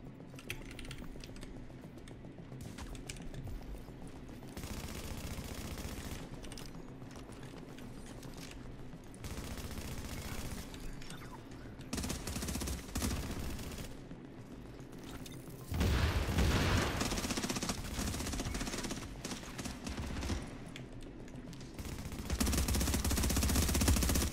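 Heavy automatic gunfire from a big gun in The Division, a dense loud stream of rapid shots with booming bursts that swell louder toward the end, continuing throughout without talk.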